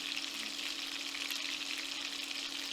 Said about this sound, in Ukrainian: Підсмажуємо котлетки і одночасно формуємо інші.